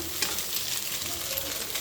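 Egg frying with potatoes in a pan, stirred continuously, giving a close, dense sizzle with scraping under it throughout.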